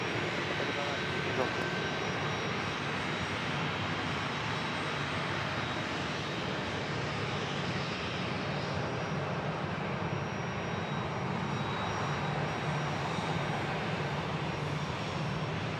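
Airliner taking off at San Diego airport, a loud sustained jet engine roar that holds steady throughout, with voices talking faintly underneath.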